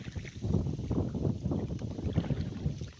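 Strong wind buffets the microphone on a fishing boat with a steady low rumble and gusty roar, close and loud throughout, with a faint wash of water beneath.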